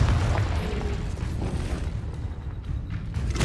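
A Confringo explosion spell bursts in Hogwarts Legacy as a loud, sustained rumbling boom with crackling debris, filling the clip with dense low-end roar that gradually thins toward the end.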